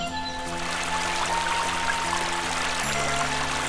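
A river stream flowing through the forest near Vilpatti, Kodaikanal, Tamil Nadu: a steady, loud rush of water with no break and a faint tonal hum running over it.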